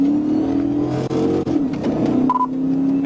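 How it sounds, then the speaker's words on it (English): A red Chevrolet Camaro convertible accelerates hard in a high-speed police pursuit, its engine note steady and droning close by, with a brief electronic beep near the end. "the driver suddenly accelerated, initiating a high-speed pursuit"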